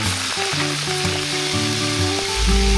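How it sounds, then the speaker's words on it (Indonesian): Chicken pieces frying in hot oil, a loud steady sizzle filling the whole clip, close up with no talking. "Aku lanjut lagi menggoreng sisanya."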